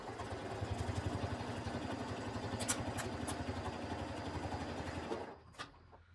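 A sewing machine stitches a quilt-as-you-go embroidery sampler block in a quick, steady whirring rhythm, running close and continuous for about five seconds before it slows and stops, followed by a faint click.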